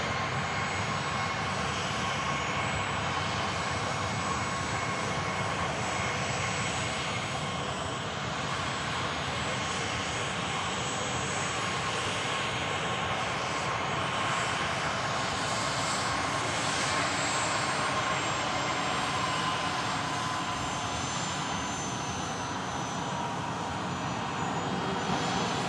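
A seven-year-old German-registered jet airliner roars steadily with a broad, unbroken engine rush, moderately loud and sustained throughout with no voices.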